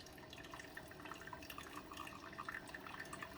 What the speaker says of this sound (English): So the coffee starts coming out of this one almost immediately.